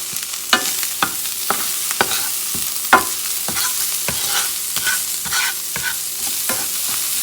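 Onions frying in a hot pan, a steady loud sizzle broken by scraping stirs and clacks of a utensil against the pan.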